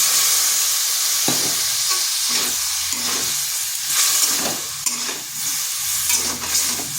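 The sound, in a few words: masala frying and sizzling in a kadai after adding water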